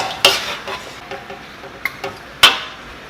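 Gochujang-sauced chicken wings tossed in a pan, a few sharp clinks and scrapes over a soft sticky sizzle, close up and with no voices.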